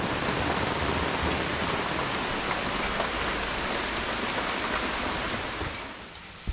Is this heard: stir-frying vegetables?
no